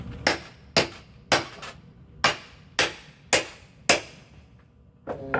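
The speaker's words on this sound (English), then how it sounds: "Look when the difference when I hit it with the heavy duty hammer here." Heavy duty hammer striking pallet wood in seven sharp, evenly spaced blows, each a loud close crack with a short ringing decay, followed by a softer knock at the end.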